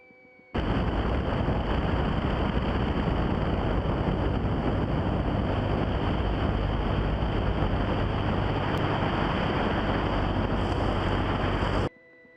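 A Lake Buccaneer amphibious seaplane touches down on a smooth small lake, its engine and hull-on-water rush forming a loud, steady roar that starts abruptly and holds for about eleven seconds before cutting off.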